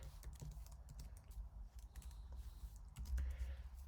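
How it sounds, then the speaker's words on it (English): Computer keyboard keys clatter in quick, irregular bursts of close, crisp clicks that run steadily throughout over a low background hum, with no one talking. "And if I type it in correctly"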